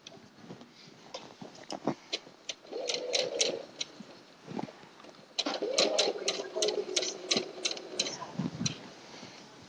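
A sewing machine stitches a pinned row of quilt pieces for a houndstooth quilt, making a close, quick ticking rhythm in short runs that speed up and slow down. Faint handling noises sit in the pauses.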